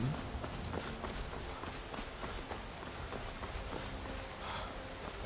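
Rain falls in Skyrim, a dense, steady patter of drops on the ground, with faint rhythmic clip-clop footsteps moving through it and no talking.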